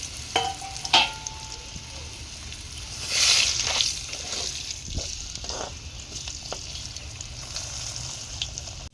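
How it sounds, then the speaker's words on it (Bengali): Potatoes frying in oil left over from frying fish, a steady low sizzle with occasional stirring scrapes and clinks, plus a brief louder hiss in the middle. "এবার ওই মাছ ভাজার তেলেই আলুগুলো দিয়ে ভেজে নেব।"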